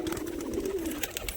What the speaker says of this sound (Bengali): কিছু পায়রা গ্রিট খাচ্ছে